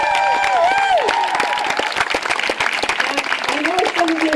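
A crowd at a small-town rally claps steadily and cheers, dense applause filling the whole moment with whistles and raised voices rising over it.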